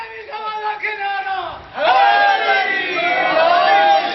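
A crowd at a religious gathering for the first Sunday of Rabi al-Awwal shouts the Naara-e-Haidari slogan. The loud, massed voices rise after a brief lull and hold steady to the end.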